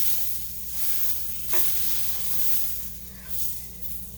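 Sliced apples fry in a pan, giving a steady soft sizzle with a few stirring scrapes and clicks, moderately close and without talk.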